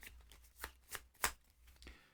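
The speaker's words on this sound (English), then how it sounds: "So let's just shuffle these up." A deck of playing cards for the Honeypot tabletop game is riffled and tapped by hand at close range, with several quick crisp bursts spaced about a third of a second apart.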